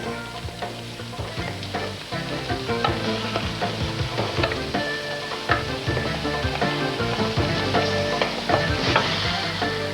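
Vegetables and mushroom sauce sizzle loudly in a hot pan, with steady frying hiss and repeated clattering stirs and tosses running throughout, close up and with no talk.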